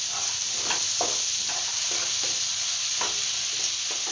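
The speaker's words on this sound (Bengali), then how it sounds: "সেকেন্ড মতো রসুনটাকে ভালো করে ফ্রাই করে নিতে হবে।" Garlic fries in butter for butter garlic chicken, giving a dense, close sizzle with a spatula stirring and scraping in a regular rhythm about twice a second.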